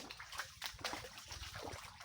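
Water from a river in the provinces flows and trickles steadily, with soft sloshing and gurgling that stays faint and continuous throughout, with no talking.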